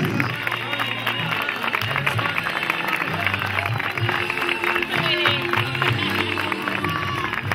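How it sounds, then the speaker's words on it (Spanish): Steady, dense applause from a crowd cheering champions at an outdoor award ceremony for the Extreme Filabres race in Serón, a continuous clapping wash with low music or crowd murmur underneath. "Fuerte aplauso para estos campeones"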